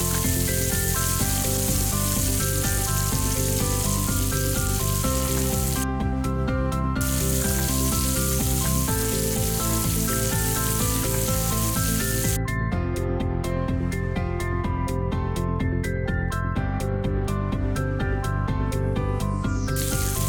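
Garlic and onion sizzling in a hot wok, a steady hiss under continuous background music throughout.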